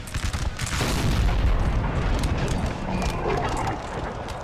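Artillery cannon fire in the strategy game Napoleon: Total War, a dense rumbling barrage of booming blasts and crackling musketry that swells loudly and continuously across the battlefield.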